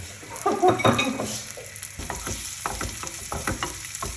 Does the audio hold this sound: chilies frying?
yes